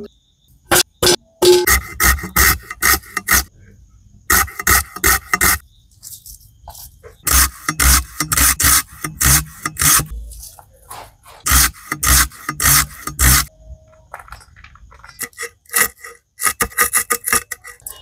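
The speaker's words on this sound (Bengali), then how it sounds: "পেঁয়াজগুলোকে কেটে ভালো করে ধুয়ে ঝিরিঝিরি করে" Onions being finely sliced with a knife on a board for peyaji, rapid bursts of crisp chopping strokes separated by short pauses, loud and close with no voices.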